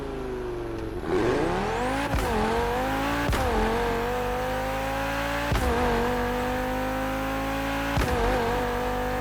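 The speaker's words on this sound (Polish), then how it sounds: "jak gada ten silnik" An engine in a swapped car in The Crew Motorfest revs and climbs through gears, the pitch rising then dropping at each of several sharp shifts, loud and continuous with no talk.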